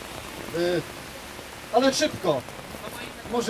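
Heavy rain pours down outdoors at a gathering by a monument, a steady broad hiss running beneath the whole stretch while people talk over it.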